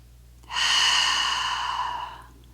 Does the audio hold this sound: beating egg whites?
no